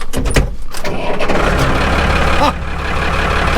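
A Case tractor engine cranks with rapid rhythmic chugging, then catches and settles into a loud, close, deep idle rumble, no one speaking.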